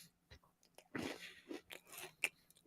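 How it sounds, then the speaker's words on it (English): Fritos honey barbecue flavored twists being munched close up, with irregular crunchy bites and chewing that come in clusters, some sharp and some softer, and no talk. "Sorry, I'm munching on Fritos"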